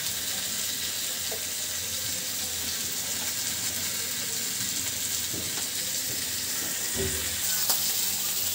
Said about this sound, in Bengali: মাছ ভাজাটা কিন্তু হয়ে গেছে